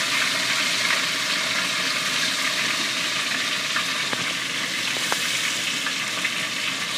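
Meatballs browning in a frying pan on a lowered heat give a steady, close sizzle and crackle throughout, with a few sharper pops rising above the constant frying hiss.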